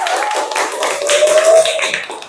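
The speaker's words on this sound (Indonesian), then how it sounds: "tepuk tangan untuk Mas Desta." A short burst of classroom applause from a group of students, quick and fairly loud, with a faint tonal hum running underneath.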